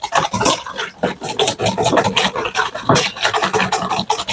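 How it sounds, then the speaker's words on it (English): Eggs and sugar being whisked in a bowl for a vanilla oil-based cake: quick, continuous scraping strokes repeat in a brisk, uneven rhythm, close and fairly loud, with no talking. "I'll proceed to whisk the eggs and the sugar."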